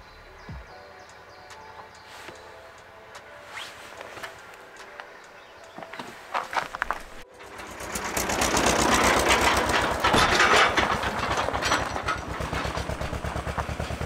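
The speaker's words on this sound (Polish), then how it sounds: "Przyjechał traktor." A tractor approaches and runs nearby, first a faint mechanical chatter and then a loud, dense, steady engine roar that swells and holds to the end, with no voices.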